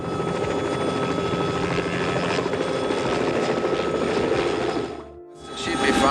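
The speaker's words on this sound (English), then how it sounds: "The Hughes 500 helicopter that became TC's Island Hopper" A Hughes 500 helicopter, the one used as TC's Island Hopper in Magnum P.I., flies close and loud with a steady rotor drone and engine whine, briefly dropping out near the end before returning.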